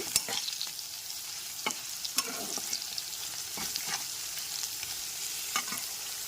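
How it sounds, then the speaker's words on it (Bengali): Potatoes seasoned with salt and turmeric sizzle in a pan on a gas stove while a spatula stirs them. A steady close hiss runs throughout, broken by sharp scraping clicks. "এইবার ভালো করে নেড়ে ছেড়ে নেব"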